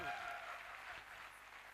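Steady applause from a seated audience at a direct-selling team event, a continuous dense wash of clapping hands with no individual claps standing out.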